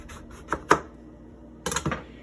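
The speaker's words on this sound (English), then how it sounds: "the best way to get fresh juice out of your lemon and your limes is to just cut it in the middle" A knife slices a fresh lime in half on a cutting board, making a few sharp, close chopping knocks with a short pause between two bursts, and no voices.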